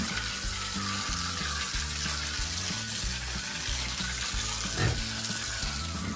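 Water thrown onto a pigsty floor to rinse it, a continuous loud splashing hiss close by, steady throughout, with a faint low hum running beneath it.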